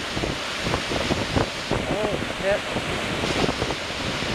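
Storm waves crash on the Campbell River shore under a hard wind that buffets the microphone, a dense, loud roar throughout, with a person exclaiming briefly over it.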